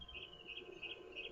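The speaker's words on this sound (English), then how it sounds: "is a bird with a very interesting name. It's a green-backed Cameroptera" A quiet, repeated clicking call of a green-backed camaroptera, short knocking notes in a steady rhythm against a faint outdoor background.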